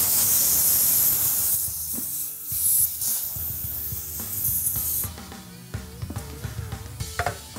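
Air hisses loudly from a tire valve at around 40 psi while valve cores are screwed in, a strong steady hiss that cuts off abruptly, followed by quieter bursts and small fiddling clicks.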